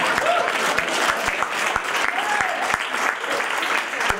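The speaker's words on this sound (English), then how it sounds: "feel free to clap for me now" An audience claps after a talk on artificial intelligence and facial recognition at a HelpFest event, with steady, dense applause from a crowd filling the room throughout.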